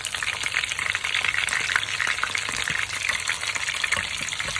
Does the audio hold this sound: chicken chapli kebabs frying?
yes